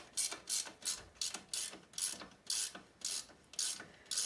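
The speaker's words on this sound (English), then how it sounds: "I'm using a ratcheting wrench, so make this process a little quicker" A ratcheting wrench clicks in quick repeated bursts as it turns a bolt on the shock of a 2005 Honda CRF70F motorcycle, each short run of dry metallic clicks close and distinct, with no talking.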